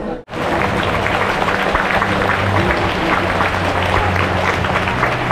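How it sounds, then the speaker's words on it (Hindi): An audience at the Moscow State Circus claps in a dense, steady burst that starts after a brief silence and carries on evenly, filling the hall with loud, continuous applause. "क्यों ताली मार रहे हैं मुझे भी नहीं पता"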